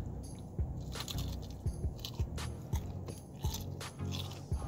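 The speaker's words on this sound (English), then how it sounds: "Can you hear that crunch?" Repeated crunchy bites and chewing of fried chicken, close to the ear, with several sharp crackling bursts spaced irregularly over a low background murmur.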